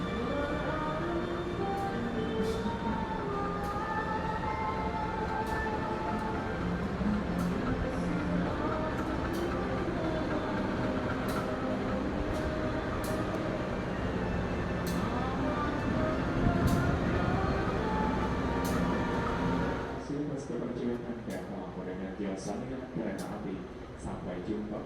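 A Jakarta–Tingkir passenger train rolls along with a steady rumble and hum of coaches, holding a loud, continuous level before thinning out near the end, while a voice speaks over it.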